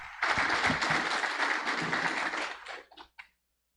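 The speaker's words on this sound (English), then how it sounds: "Please, another round of applause for President Whips." Audience at a tax reform symposium in Palau applauds steadily for about two and a half seconds, a dense close wash of clapping that thins and trails off into a few last claps.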